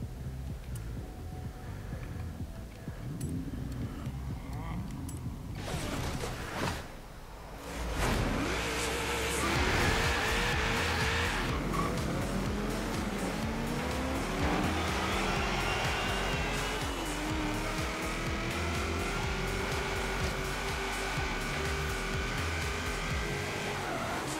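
Cars racing and spinning out in the video game Forza Horizon 3, with loud continuous engine drone and screeching tire squeal as the car slides, the engine pitch rising and falling throughout.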